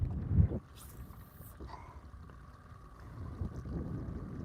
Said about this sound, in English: The wind's coming up, so it's just pushing me like crazy.